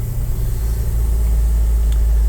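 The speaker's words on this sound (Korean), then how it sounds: "지금 이제 엔진 그 뚜껑을 좀 열어놨어요. 그래서 지금 이제 소리는 조금 나는데" A loud, steady low engine rumble, close and unchanging, from a 2016 Hyundai New County long-body 15-seat automatic bus idling nearby with its engine cover open.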